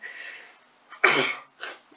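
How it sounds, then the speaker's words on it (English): A single sharp sneeze bursts out close by after a breathy inhale, followed by a softer sniff or short exhale. "I'm going to sneeze, excuse me."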